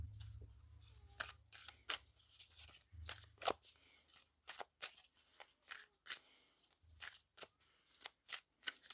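A deck of oracle cards is shuffled by hand up close, giving a steady run of crisp, rapid riffles and slaps with short pauses between them and no talking.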